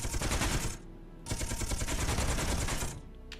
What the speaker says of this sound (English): I just shot my own ship again.